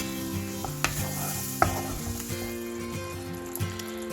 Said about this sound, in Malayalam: പുളിവെള്ളം ചേർത്തിട്ട് നന്നായിട്ട് തിളച്ചു തുടങ്ങിയിട്ടുണ്ട്.